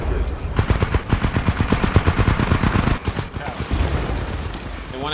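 Rapid turret gunfire in a video game, a dense burst of repeated shots close and loud for most of the stretch, briefly dipping before resuming, with a voice talking over it.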